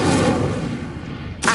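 Incendio fire spell cast in the Hogwarts Legacy video game: a loud forceful whoosh and burst of flame that rolls on steadily, with a fresh sharp burst right at the end.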